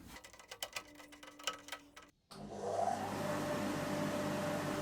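Carbatec 1 horsepower, 4-inch dust extractor switching on after a few seconds of ticking and clicking, then settling into a steady, close, loud roaring whoosh with a faint whine.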